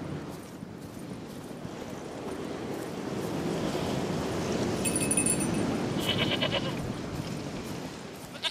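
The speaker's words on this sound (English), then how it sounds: "Stupid fucking goat." A goat bleats in The Witcher 3, faint and brief, in a windy outdoor ambience with a low rushing background.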